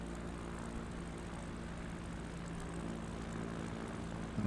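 Propeller airplane engine in a flight simulator droning at a steady, even pitch throughout, a continuous low hum with no speech over it.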